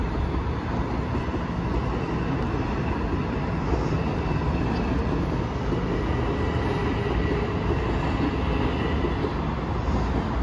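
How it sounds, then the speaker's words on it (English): A train rolling past at close range at Fleetwood Station, Mount Vernon, New York, a loud continuous rumble with wheel clatter and rail noise lasting the whole time. "Here comes the train to Southeast."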